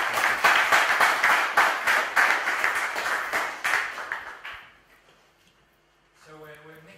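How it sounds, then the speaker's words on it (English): Audience applause at an Internet of Things Scotland meetup, a dense burst of many hands clapping that fades out after about four seconds, followed by brief tonal noise near the end. "Why not another round of applause?"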